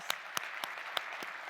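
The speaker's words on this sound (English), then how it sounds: "So let's give them another round of applause." A conference audience at a diversity and talent summit claps in a brief, sparse round, with a handful of distinct claps over a soft wash of applause.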